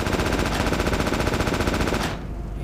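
Rapid automatic gunfire in the military video game Project Reality ARMA, a loud continuous stream of shots for about two seconds, then a short echoing tail.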